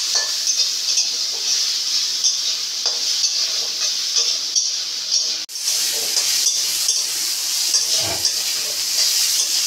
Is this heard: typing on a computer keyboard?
no